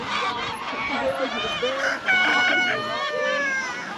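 Busy poultry noise on Polyface Farm, with overlapping clucks, squawks and honk-like calls from many chickens, steady and fairly close, with no talking.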